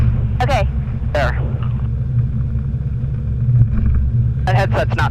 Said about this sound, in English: But really small plane.